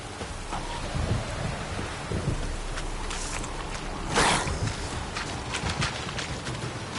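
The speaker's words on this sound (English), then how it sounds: "Yeah, this downpour's a bastard," Game downpour with continuous rain hiss and a low thunder rumble, joined by a louder burst of splashing noise about midway, steady and fairly loud with no voices.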